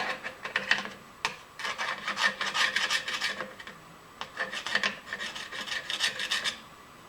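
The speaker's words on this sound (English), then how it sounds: "Just come in with our diamond. And just kind of trim it a little bit." A diamond tool grinds and rasps against sewer pipe as it trims the pipe, loud and close, in several sustained scraping bursts with short pauses between them, and no voices.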